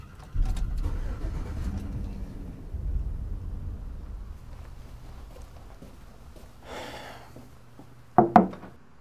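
A car engine turns over and rumbles low, running steadily for several seconds before fading, then ends with a pair of sharp, loud knocks or door thuds.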